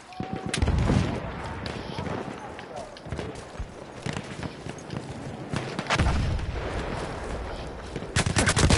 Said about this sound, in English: Who the fuck's shooting at me, man?